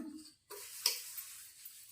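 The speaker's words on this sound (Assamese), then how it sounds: "এই তাই মাজি আছে এতিয়া লেতেৰা বাচন।" Short, close scrubbing of dirty dishes with homemade dishwashing soap made from lemon, Surf, soda and vinegar: a brief hiss and scrape, a tiny pause, then a sharp clink followed by softer rubbing.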